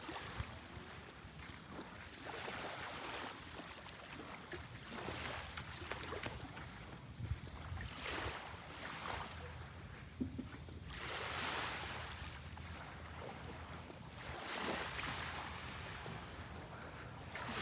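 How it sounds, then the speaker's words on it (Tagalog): Bangka boats off Bolabog Beach, Boracay: a steady, broad rumble of motors mixed with wind and waves, no voices. "Daming bangka dito."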